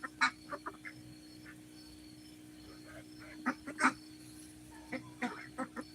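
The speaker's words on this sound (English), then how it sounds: "These are our specialty, the Icona ducks." Ancona ducks on a small North Carolina poultry farm quack in scattered short calls, some loud and near and others fainter, over a steady low background hum.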